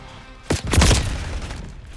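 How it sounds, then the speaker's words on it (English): Grenade blasts in Call of Duty: Black Ops 6, a Semtex and a flashbang, burst out as a sudden loud boom at mid-clip, followed by a rumbling, crackling tail that slowly fades. "Sending the Semtex. Flashbang out."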